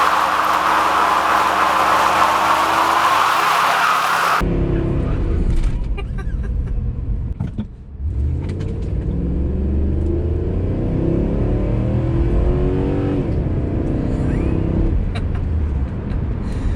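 A 2008 Dodge Ram 1500 Laramie Quad Cab 4x4 with a 5.7 liter Hemi V8 is heard from inside as it pulls away: a brief loud opening roar, then a deep rumbling engine note that rises and falls as it accelerates, with road noise underneath.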